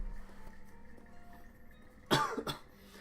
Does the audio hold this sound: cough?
yes